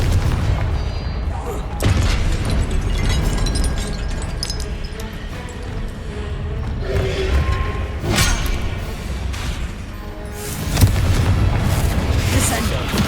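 A Confringo explosion spell goes off in Hogwarts Legacy as booming blasts and thuds ring out among spell effects, while a voice talks over the action.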